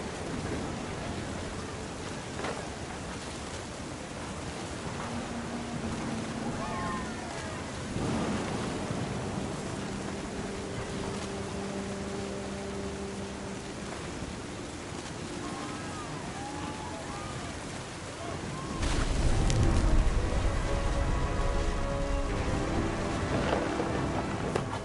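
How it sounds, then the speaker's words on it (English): Rain and rolling thunder from a stormy beach scene in the video game What Remains of Edith Finch, a steady wash of rain with a louder, heavier thunder surge near the end. "The thunder sounded much too close and full of angry power."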